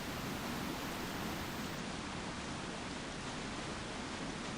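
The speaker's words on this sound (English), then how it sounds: "So we've just got the rain." Rain pours in Resident Evil 4 as a constant broadband hiss with the game's music silent. The sound stays flat and unbroken from start to finish, alone without speech.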